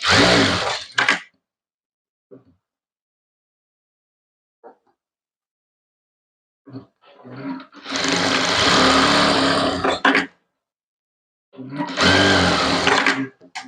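Sewing machine stitching lining cloth during a saree-to-maxi conversion, running in a few bursts of steady whirring separated by pauses, with faint handling clicks between the bursts.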